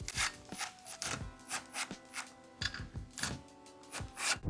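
A hand ratchet fitted with a 1/2-inch adapter tightens bolts on a Ford F-150 retractable bed step, giving repeated bursts of close clicking in an uneven rhythm, with short pauses between strokes and no talk.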